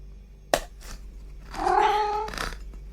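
A domestic cat meows a few times, with a drawn-out, wavering call in the middle and a shorter one after it. The sound is close and fairly clear, with a faint bump or clatter just before the calls.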